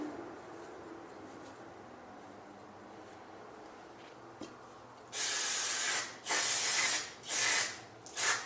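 Aerosol can of brake cleaner sprayed on a carburetor outdoors in the cold, a quiet stretch of faint background before several close, loud hissing bursts in quick succession near the end.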